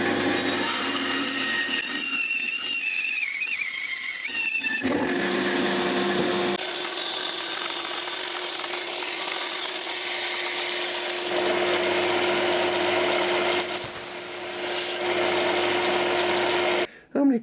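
A sanding machine grinds and rubs against wood while two angles are shaped by hand, a steady close abrasive whirring that runs loud and continuous through the whole stretch, with its tone shifting as pressure and contact change.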